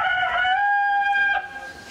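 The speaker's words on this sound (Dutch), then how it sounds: "Meteen daarna kraait er een haan." A rooster crows once, a clear, nearby cock-a-doodle-doo that rings out alone and trails off at the end, staged during an outdoor Passion play performance in Franeker.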